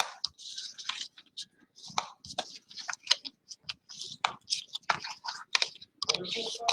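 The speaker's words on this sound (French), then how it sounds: "on va marquer tous les plis. Alors, hop, avec le plioir." Paper being scored along fold lines with a bone folder while making a ladybug-themed stamped card frame, giving a run of quick, close scraping taps and clicks, fairly faint, with soft rustles between strokes.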